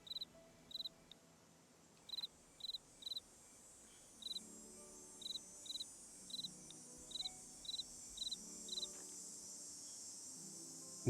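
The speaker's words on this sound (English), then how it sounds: "Where is the chirping coming from?" Insect chirping like a cicada in a video game, with short, evenly spaced high chirps in loose bursts over a quiet, low ambient background.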